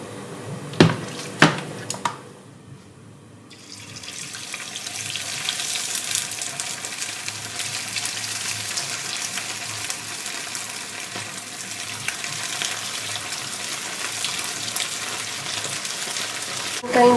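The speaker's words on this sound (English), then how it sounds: "So now let's get to deep fry this." Beef shapta, Tibetan-style, deep frying in hot oil: a few clinks and splashes at the start, a short lull, then a steady loud sizzling hiss that carries on unbroken.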